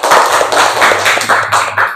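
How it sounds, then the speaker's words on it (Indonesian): A group of people clap their hands together in a classroom, giving a quick run of sharp, fairly loud claps in an uneven rhythm that continues for about two seconds. "Tepuk tangan."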